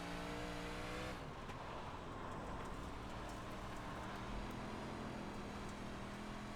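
A dirt modified race car, a 358 modified running laps at the Williams Grove dirt track in iRacing, drones with a steady, loud engine roar that holds throughout, with a slight shift in tone early on.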